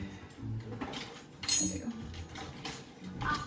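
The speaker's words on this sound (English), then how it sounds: "Okay, so then you just, I guess, stir it up." A spoon stirs iced Dalgona coffee with whipped coffee foam on top and milk poured down the sides, scraping and clinking against the glass in a few nearby bursts under low background noise.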